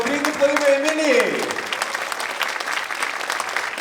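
Loud burst of clapping from a birthday-party audience for Emilija, starting over a brief sung or shouted voice and then carrying on as dense, steady applause from a close crowd.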